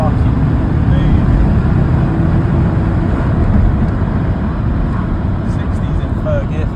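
A rebuilt VW T4 2.5 ACV van tuned to 270 bhp accelerates hard in third gear, giving a loud, steady engine roar with road noise from inside the cabin.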